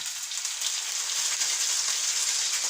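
Slices of savoury or sweet pain perdu, soaked bread, fry in a pan over lowered heat, giving a steady, close, even sizzle that keeps up throughout with no voices.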